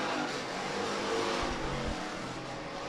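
Sportsman class race cars roar around Rapid Speedway on the 2023 season's opening night, a dense, fairly loud engine drone with some revving that holds steady with no talking.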